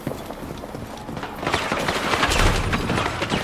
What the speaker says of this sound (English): I hear some shooting.